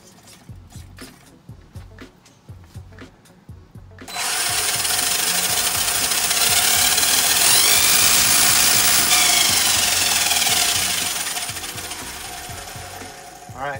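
An Arrma Kraton RC car's electric motor and pinion gear on 3S power: a few short ticking pulses, then a sudden loud, steady high-pitched whine for about eight seconds that fades slightly at the end.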